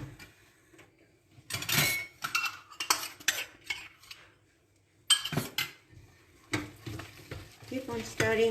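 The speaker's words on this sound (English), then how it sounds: "Keep on stirring, otherwise it will get stuck." Mohanthal sweet mixture stirred in a pan, bursts of scraping and clinking of a spoon against metal over a low sizzle, close and uneven, with quiet stretches between and brief talk.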